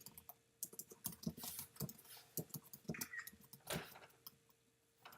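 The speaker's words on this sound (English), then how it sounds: "Type in the name." Fingers tap on a computer keyboard in short irregular runs of quiet clicks, close but soft, with a brief pause partway.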